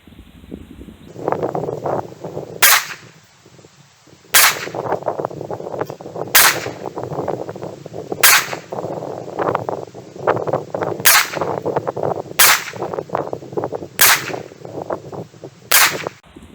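Single gunshots from a Ruger LC9S Pro pistol at an outdoor range, about eight sharp loud cracks spaced one to two seconds apart over steady background noise and rustling.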